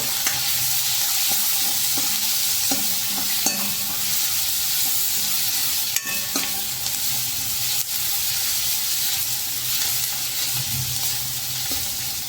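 Onions with turmeric and peas sizzle steadily in a hot pan for khari bhat while a spoon scrapes and stirs through them, with occasional light clinks against the metal.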